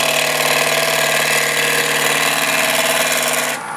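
A gouge roughs out a natural edge bowl on a wood lathe, a loud, continuous rasping chatter of the cut that runs steadily and then drops away near the end, with no talk.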